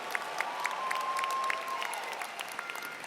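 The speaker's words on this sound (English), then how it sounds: "Worth applauding, wouldn't you all say?" A commencement audience in Atlanta applauds steadily, a broad wash of clapping with a few sharper individual claps and a faint whistle-like tone running through the first half.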